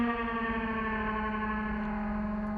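A steady, buzzy synthesizer tone holds one pitch with rich, bright overtones, sustained without a break and fairly even in level.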